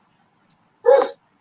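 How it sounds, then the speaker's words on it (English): A dog gives a single short bark nearby, preceded by a tiny click, with near silence around it. "I guess the dog is still barking, so I'm sorry for that."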